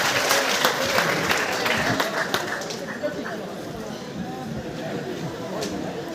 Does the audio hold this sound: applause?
yes